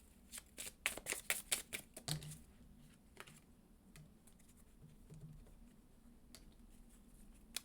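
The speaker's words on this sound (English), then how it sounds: "Now I'm just going to go get some final cards for you." Tarot cards are shuffled in quick, crisp riffling bursts up close for the first couple of seconds, followed by scattered soft taps and slides as individual cards are drawn and laid down in a quiet room.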